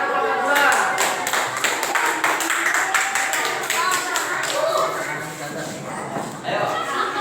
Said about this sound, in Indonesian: Beri tepuk tangan untuk kelompok dua.